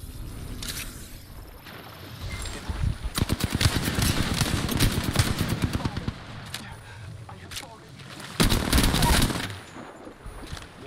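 Enemy gunfire in Apex Legends comes as rapid automatic bursts, one sustained burst in the middle and another near the end, with player voices talking between the shots.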